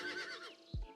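A Morgan horse in the video game Star Stable Online gives a short whinny that fades, followed by a low snort-like thump, heard alone and fairly faint.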